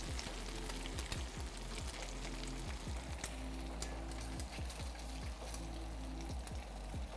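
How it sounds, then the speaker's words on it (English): Chicken sizzles steadily on a grill, a dense, even crackle and hiss that carries on throughout at a low, close level with no talking. "We're starting to sizzle. You guys hear that?"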